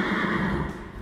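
Horse in a veterinary exam room gives a short, loud neigh, one continuous whinny filling the brief moment up close.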